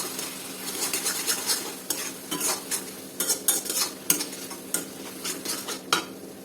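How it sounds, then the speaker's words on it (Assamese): Coriander and cumin powder being fried in a pan for an Assamese taro-leaf dish, with a spoon repeatedly scraping and clinking against the metal over a soft, steady sizzle. "এইখিনি এতিয়া ভালদৰে ভাজি ল'ম"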